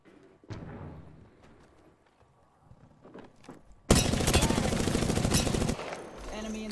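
A sustained burst of loud automatic gunfire in Apex Legends comes after a few scattered quieter shots and thuds, with a player's voice talking briefly beforehand.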